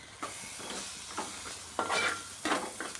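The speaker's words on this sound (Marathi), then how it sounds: "कांदा टोमॅटो परत मसाला चांगलं असं परतून घेतले" Onion, tomato and Malvani masala sauté in a pan, with soft sizzling and a few distinct stirring scrapes coming in bursts over a quiet, hissing base.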